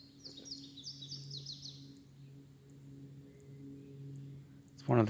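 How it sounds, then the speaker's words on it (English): A gray catbird sings from a thicket at the water's edge, a quick run of faint, distant chirps and warbles early on over a steady low hum, followed by a brief, louder close noise at the end. "gray catbird in the mockingbird family."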